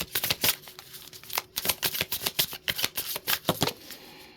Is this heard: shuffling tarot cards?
yes